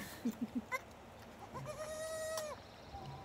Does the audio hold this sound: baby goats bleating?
yes